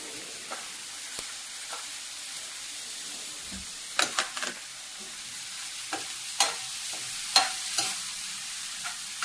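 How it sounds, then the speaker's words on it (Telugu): Tomatoes fry in a pan for a cucumber chutney, a low steady sizzle broken by sharp scraping stir strokes and clinks at irregular intervals, close up and without talk. "ఈ టమాటాలు కూడా వేగిపోతున్నాయండి"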